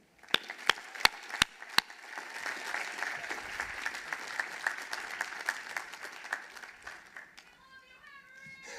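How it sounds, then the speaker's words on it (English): Commencement audience applause at a university ceremony, opening with several sharp, loud claps close by, then a broad sustained wash of crowd clapping that fades out as a voice begins to speak at the end. "Ladies and gentlemen, please give a big round of applause to Henry White."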